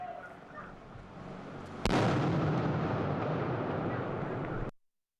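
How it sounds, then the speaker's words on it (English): A backpack detonated at the Boston Marathon finish line gives one sharp, loud blast after a quiet stretch, followed by a broad roaring rumble that holds steady for about three seconds before cutting off abruptly. "Footage of one of 2 backpacks being detonated at the finish line on Tuesday."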